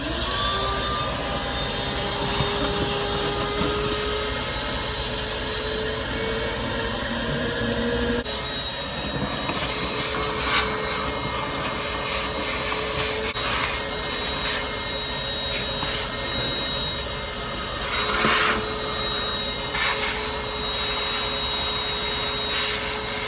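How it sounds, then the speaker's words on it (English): Vacuum cleaner running steadily as it sucks a rodent nest and droppings out of a 1972 Dodge D100, a loud close whine with clattering bursts as debris is pulled through, continuous with no talk. "I'm going to vacuum out all this nest and turds and all that"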